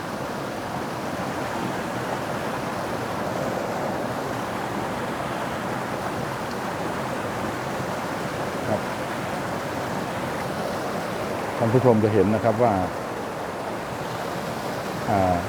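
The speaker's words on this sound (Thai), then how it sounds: "ข้างบนนะครับ จะมีน้ำตก ไหลลงมาจากภูเขานะครับ" Steady, full rushing water from a tiered waterfall flowing down a mountain in Rayong, Thailand roars without pause, with someone speaking over it.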